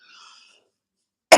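A single sharp cough bursts out loud and close at the very end, after a moment of near silence with a faint, brief murmur at the start.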